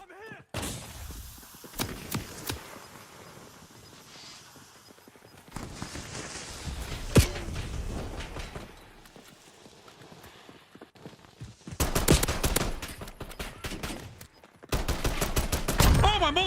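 Gunfire in the Warzone Verdansk battle royale game: bursts of shots crackle through the action in several loud clusters, with quieter stretches of game sound between them.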